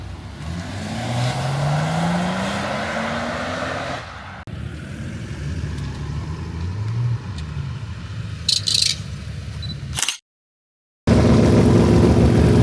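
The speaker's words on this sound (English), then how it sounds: "I can just bang through the gears, like drop it down." A Toyota Barra engine in a naturally aspirated car climbs in pitch, drops as it shifts, then climbs again through successive gears, loud and close, with a brief silent gap near the end.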